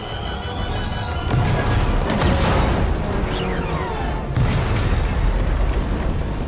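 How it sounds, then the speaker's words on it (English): A bomb blast during Fortnite's Operation Sky Fire live event: loud, deep booming explosions that rumble on for several seconds, with a second surge of blast noise partway through and rushing debris-like hiss above. "There's a bomb."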